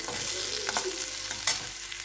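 Potatoes fry in a pan for an evening snack, giving a steady, close sizzle with a few brief stirring scrapes and no talk.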